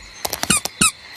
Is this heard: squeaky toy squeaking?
yes